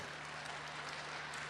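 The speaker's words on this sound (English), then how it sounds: "Oh, I see that was women who are clapping." Women in a seminar audience at the Greenbelt festival clapping, a brief, faint, steady patter of applause.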